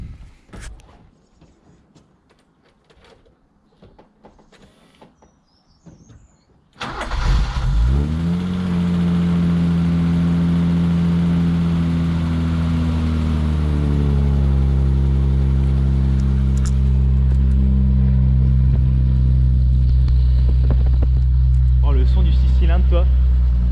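A BMW E30 320i cold-starts after a quiet stretch with scattered speech, the engine cranking and catching into a loud, steady idle that holds with a slight rise in pitch as it settles.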